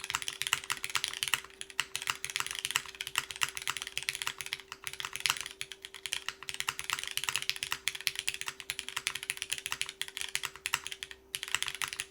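Fast, steady typing on an aluminum top-mount TKL mechanical keyboard, the Diversity TKL, with dense clacky keystrokes close up and a faint constant hum underneath.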